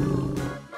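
A tiger's roar, one short, loud, rough growl that swells and then tapers off, standing alone with no talk over it.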